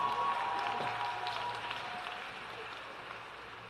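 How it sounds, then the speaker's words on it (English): Applause for the band, Marine Corps JROTC and the Voices of Unity choir at a 2018 high school graduation ceremony. A broad, fairly distant patter that fades steadily as it goes. "Let's give them a big round of applause."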